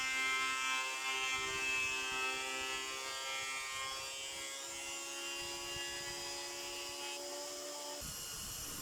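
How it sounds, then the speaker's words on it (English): A timber thicknesser planes a wooden board, giving a steady, high-pitched motor whine with a faint rough cutting texture that runs evenly and then drops away near the end, fairly faint and with no voices. "I passed this through the timber thicknesser to get it to an even thickness."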